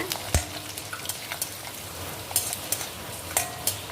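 Mustard seeds splutter and pop in hot oil during a tempering for coconut milk rice, a dense crackling sizzle with rapid sharp pops throughout and one heavier knock at the start.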